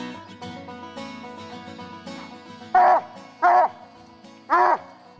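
A hunting dog in Georgia barks three loud, sharp times in the back half, each bark clearly separated, over a steady tonal background.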